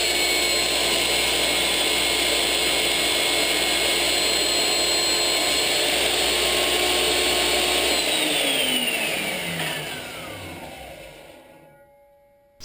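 A Ridgid 10-inch table saw runs loud and steady, its blade cutting through a board fed against the miter, then winding down with a falling whine after the cut until the motor coasts to near silence.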